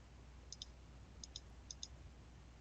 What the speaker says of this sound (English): So I'm using left mouse clicks to trace the perimeter of O-1